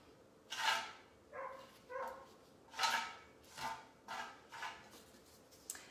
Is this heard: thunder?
no